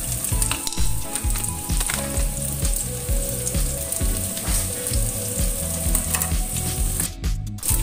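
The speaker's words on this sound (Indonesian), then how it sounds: "cukup bawang merahnya itu digoreng seperti ini" Shallots fry in hot oil for beef rawon, a dense, continuous sizzle with frequent stirring scrapes and spatula knocks, close and loud throughout with no voices.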